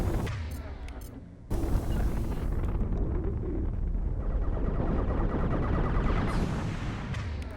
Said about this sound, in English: And that is the explosion I was trying to get to happen way back at the beginning of the video.